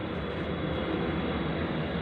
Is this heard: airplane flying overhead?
yes